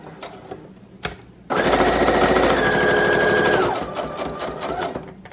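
A sewing machine runs a straight stitch on fabric tags in one steady, fast burst of about two seconds. Before and after it come a few quieter handling clicks, and no one speaks.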